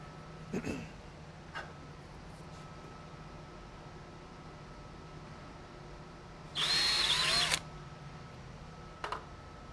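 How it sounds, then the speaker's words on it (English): A power drill whirs in one short, loud burst of about a second, pre-drilling a hole in a board-and-batten wall panel, with a few faint taps before and after in a quiet room. "I need to pre-drill a hole within the first 12 inches or so toward the bottom of the panel"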